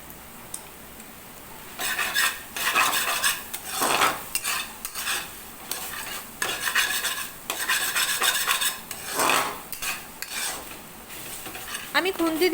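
Maggi noodles stirred in a pan with a metal spatula, scraping and clinking in bursts against a soft simmering sizzle, close and fairly loud, with no voices.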